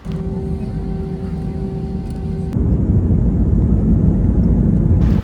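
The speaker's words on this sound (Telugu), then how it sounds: "ఇదిగో మన ఫ్లైట్ ఎగరగానే ఆ ఎమిరేట్స్ లైన్లోకి వచ్చేస్తుంది" An airliner takes off at Suvarnabhumi Airport in Bangkok, its loud, steady jet roar and whine filling the cabin, then rising into a heavier, broader rumble partway through as the engines build thrust.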